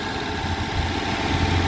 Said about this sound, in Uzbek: Bir xil ishlayapti motorlarimiz hozir.